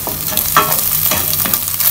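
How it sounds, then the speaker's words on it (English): Beaten egg stir-fried in a pan for nasi goreng sizzles loudly and steadily up close, with a spatula scraping and stirring through it in a few strokes. "put one beaten egg, okay, and then mix well, cook it until nicely done"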